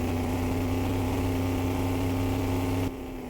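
A car engine in the video game My Winter Car runs at a steady, loud, low hum that drops abruptly near the end, with no talk over it.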